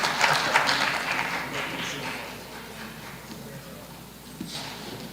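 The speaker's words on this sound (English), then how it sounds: "Keep clapping, ladies and gentlemen." An audience claps at a ceremony honoring award recipients, a dense wash of applause that is loudest at the start and slowly thins and fades over several seconds.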